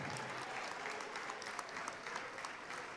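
A church congregation applauds together in steady, dense clapping that holds level throughout, fairly distant and even, with no voices rising above it.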